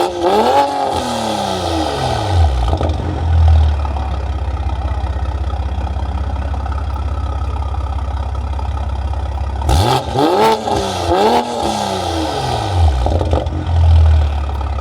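A BMW 540i fitted with a new downpipe and exhaust idles with a deep, steady rumble, then rises through two loud bursts of revving early on and again near the end, close and continuous with no talk.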